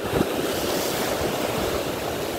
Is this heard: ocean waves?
yes